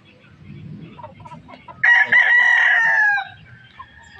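A Kelso gamefowl rooster lets out one loud, close crow lasting over a second, rising then holding and trailing off. Before it, faint farmyard rustling fills the quiet.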